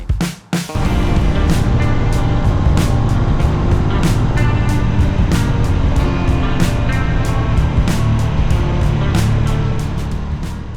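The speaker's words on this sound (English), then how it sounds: "this little Honda is powered by a single cylinder 350cc air-cooled engine" A Honda GB350S with a single-cylinder 350cc air-cooled engine starts with a brief cough and then settles into a steady, loud, close thumping idle that runs continuously for about ten seconds.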